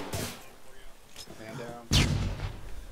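A flashbang grenade detonates during a room entry in a raid on a drug and human trafficking den, a sudden sharp blast that cuts through a tense stretch of low voices and movement, followed by ringing noise.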